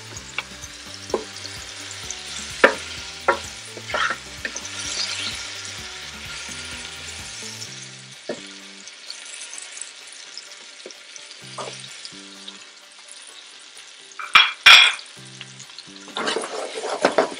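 Fish fries in hot oil for African fried rice, a steady sizzle with clinks and knocks of a utensil stirring in the pan and a louder crackling flare near the end.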